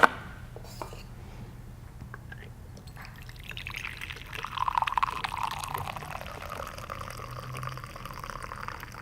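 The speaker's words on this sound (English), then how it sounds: "so I'm going to pour myself a cup" Coffee from a Breville Precision Brewer is poured into a cup, a soft trickle building into a fuller, rising pour after a few quiet clinks, close and moderately faint.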